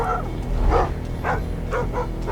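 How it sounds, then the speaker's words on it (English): Guard hound in the stealth video game Thief, barking and yipping in several sharp bursts over a steady low game ambience. "Boy, he's gonna start barking."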